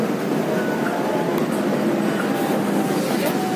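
Metro train running between stations, a loud, steady rumble and rush of a moving carriage with faint squeals and clicks, the noise constant for the whole stretch, with muffled voices in the background.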